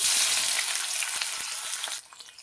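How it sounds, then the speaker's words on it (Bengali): Onions hit hot oil in a wok with a loud, close sizzle that gradually eases. The frying turns noticeably quieter and more crackly for the final half second. "তেল গরম হয়ে গেছে পেঁয়াজ দিয়ে দেবো"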